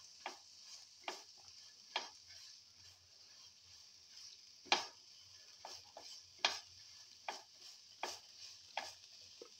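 Okra being tossed and mixed with salt in a bowl for an okra peanut sesame dish, giving soft irregular clicks and rustles every second or so, close and fairly quiet, with no talking.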